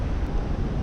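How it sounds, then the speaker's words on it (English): Wind buffeting a microphone outdoors on the New South Wales coast after bushfires, a dense low rumble filling the short moment with no talk. "You can tell the wind is dying"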